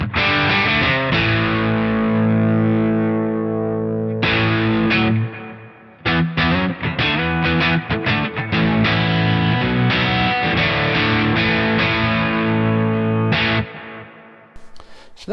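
An electric guitar runs through a Joyo Orthros line selector, switching between wet and dry signals: loud distorted chords ring out, then give way to a quick burst of rhythmic strums and more sustained chords before fading. No voices.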